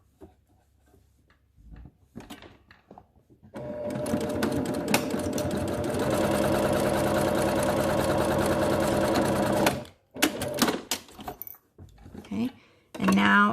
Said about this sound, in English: Now sew this side down